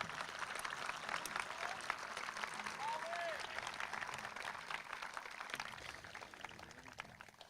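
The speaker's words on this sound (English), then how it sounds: "Let's give him a round of applause." Applause at a commencement ceremony after an architecture student is called up, a steady, dense wash of clapping from a large crowd that holds for several seconds and fades slightly toward the end, with faint voices mixed in.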